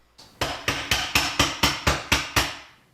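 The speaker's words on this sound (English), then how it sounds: "you may have to give it a couple taps with a hammer" Eight sharp metallic hammer taps on a garbage disposal mounting ring in a steady rhythm, each ringing briefly before the next, close and loud with no talking.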